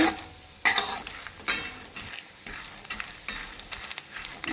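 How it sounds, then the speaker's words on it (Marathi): Peanuts fry in a couple of spoonfuls of oil in a pan for Solapuri chutney, with a steady soft sizzle broken by a few sharp scraping stirs, close and moderately loud, no voices. "आपले शेंगदाणे ह्याच्यात टाकते मी शेंगदाणे तेलात तळून घ्यायचे"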